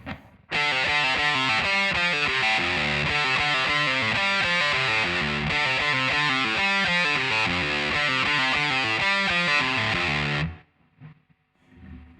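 Distorted electric guitar plays the bridge riff, a steady run of pull-off notes lasting about ten seconds, loud and alone, then stopping abruptly.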